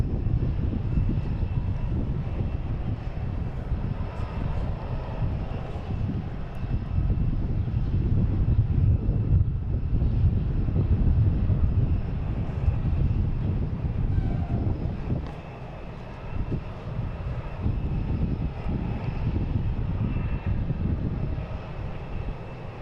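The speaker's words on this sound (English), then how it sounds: "Next to arrive is the JetBlue coming in from Orlando at A220." A JetBlue Airbus A220 arrives at Boston Logan airport on a flight from Orlando, its engines making a steady, loud, rumbling roar that fills the whole stretch and eases slightly near the end.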